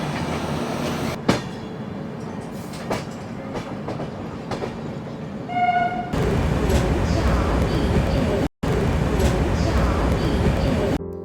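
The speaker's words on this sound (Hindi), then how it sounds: "ट्रेन अपने 14th हॉल्ट पे रुक चुकी है और ट्रेन बिल्कुल सही समय पे यहाँ पहुँची है" Rajdhani Express train pulling into Panvel Junction station: a steady rumble with clickety-clack of wheels over rail joints, a brief tonal whine, then a louder, denser rolling roar toward the end, with a voice speaking over part of it.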